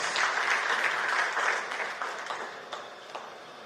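An audience at a formal gathering applauds as a U.S. Embassy health officer walks up to speak, steady clapping that tapers off gradually.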